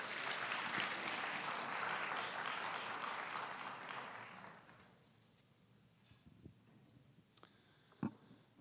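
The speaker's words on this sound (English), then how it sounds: "when the violins play, I think they deserve rounds of applause" Congregation applause for the violins at a Shabbat service, a dense crowd clapping for about five seconds before fading out into a quiet room with a few scattered claps and small clicks.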